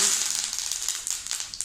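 Mustard seeds and curry leaves crackle and pop in two tablespoons of hot oil in a kadai, a dense sizzling spatter with sharp little bursts throughout.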